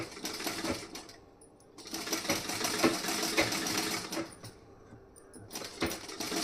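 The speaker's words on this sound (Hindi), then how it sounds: "यहाँ पे मैं आधे इंच कपड़ा लेके स्टिचिंग कर रही हूँ।" A sewing machine stitches fabric, taking a half-inch seam allowance on a sleeve or back-panel garment piece, in a rapid mechanical whirring run that pauses briefly twice before starting again, close by and moderately quiet.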